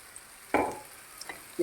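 Ginger and garlic sauté in coconut oil, giving one short burst of sizzling and stirring, then a faint crackle in otherwise quiet surroundings.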